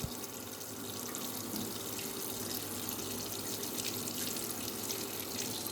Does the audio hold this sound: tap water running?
yes